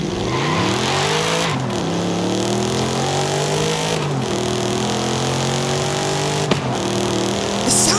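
TVR sports car in Forza Horizon 5 with an old-school engine note, revving up and down through several gear changes, its harmonics sweeping upward and dropping at each shift, loud and continuous with no talk.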